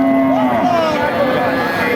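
A dairy cow with a calf moos loudly and close by at a busy cattle market, one drawn-out low call filling the moment over crowd murmur.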